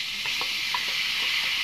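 Boiled papaya pieces hit hot oil with neem leaves in a home kitchen pan, giving a steady close sizzle with a few soft scraping stirs, no voices.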